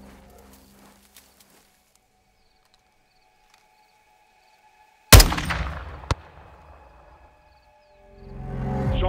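A sniper rifle fires in Call of Duty: Modern Warfare II (2022). After a near-silent stretch comes one loud, sudden shot with a long rumbling echo, then a second sharp crack as the tail fades.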